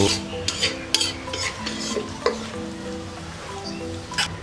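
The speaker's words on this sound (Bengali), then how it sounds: "এবারে নাড়াচাড়া করে ফোড়নগুলোকে ফুটিয়ে নেব" Bay leaf, cumin and black mustard seeds crackling in hot oil for a Bengali fish curry, with frequent loud spatula scrapes and taps over a busy close sizzle.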